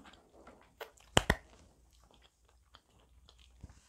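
A close bite of cheesy Samyang spicy noodles gives two sharp, loud crunchy snaps near the middle, set among faint soft chewing and mouth sounds, with no talk.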